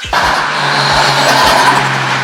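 A Nissan R31 Skyline drift car with a 2-litre RB20DET inline-six, front-mount intercooler and blow-off valve, tuned to about 180 kW, roars loud and steady under hard throttle with pulsing engine notes, close by and alone.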